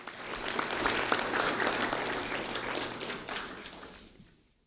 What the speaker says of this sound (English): a round of applause for Jackson Montgomery,